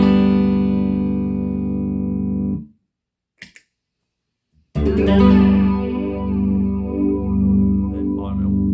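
An electric guitar runs through a Keeley DynoMyRoto rotary effect pedal, a loud, bassy sustained chord cut to two seconds of near silence, then a swirling, warbling strum returning at full volume, no talking.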